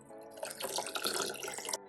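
Cooled boiled water pours steadily into berry puree for homemade kvass, a brief close splashing stream lasting under two seconds.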